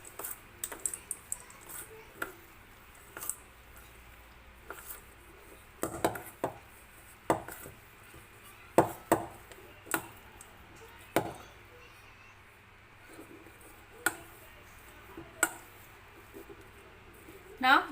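Chocolate chip cookie dough mixed by hand in a bowl for no-bake cookies, heard as sporadic taps, clicks and scrapes of a utensil against the bowl, fairly close and faint, with quiet gaps between strokes.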